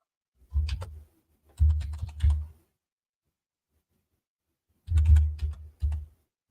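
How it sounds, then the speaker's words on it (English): Clattering keystrokes on a wireless computer keyboard in three quick bursts, with a long quiet gap before the last, close up and fairly soft. "this keyboard, I need to just go back to wired"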